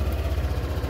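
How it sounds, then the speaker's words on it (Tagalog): A motorcycle engine idling just after being started, a steady low rhythmic putter with a fast, even pulse, close and moderately loud, with no talk. "Tapos post start natin yung motor."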